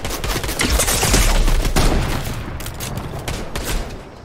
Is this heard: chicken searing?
no